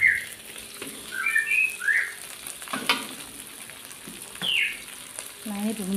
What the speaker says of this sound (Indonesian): Hari ini mau numis kacang panjang.